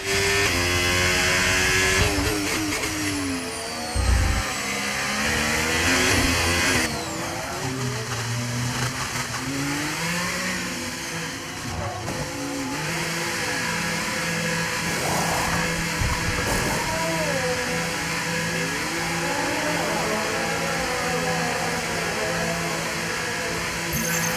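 Race car engines roar in a racing video game as the field gets back up to speed, layered whining and rising engine tones blending into one continuous loud drone without speech.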